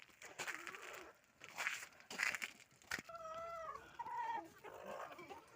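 Chickens cluck and squawk close by in irregular bursts, with a rooster-like drawn-out call partway through, fairly faint overall.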